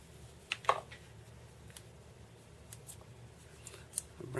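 Scissors make a couple of quick, close snips into electrical tape wrapped near a wire on a Sukhoi model aircraft build, faint and brief against a quiet room hum.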